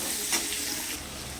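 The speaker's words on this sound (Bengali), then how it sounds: "পেঁয়াজটাকে একটু লাল করে ভেজে নেব" Onion frying in a pan, a dense, steady close sizzle with a faint stirring scrape partway through, no talking.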